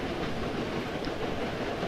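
A train rumbles steadily at a snowy North Pole station in a video game, a dense, even roar of rolling wheels and carriage noise with faint clatter, loud and continuous throughout with no talk.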